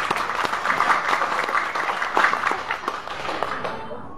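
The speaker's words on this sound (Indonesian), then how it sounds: "Tepuk tangan." Sustained applause from a crowd at a religious gathering in Indonesia, a dense wash of hand claps that holds steady for several seconds and thins slightly toward the end.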